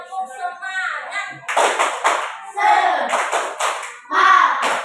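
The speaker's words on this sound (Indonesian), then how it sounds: "ayo kita tepuk semangat terus. Tepuk semangat." A classroom of children does the Indonesian "tepuk semangat" clapping chant, bursts of hand claps in short patterned groups alternating with sung or chanted voices, loud and close.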